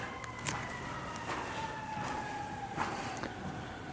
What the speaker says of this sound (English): It's like non-stop ambulance every second.